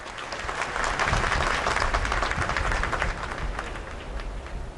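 An audience at a book release ceremony in Ayodhya breaks into loud, sustained applause. The clapping swells to a dense peak before easing slightly toward the end.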